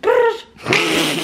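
A human voice imitates a dog, first with a short whining, howl-like tone, then after a brief pause with a rough, raspy growl, loud and close.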